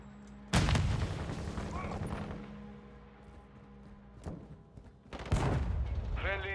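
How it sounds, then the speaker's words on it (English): A stun grenade and gunfire in Call of Duty: Modern Warfare II: a loud bang sets off a burst, with further sharp reports and clatter following, and voices speaking between the blasts. "Throwing a stun grenade!"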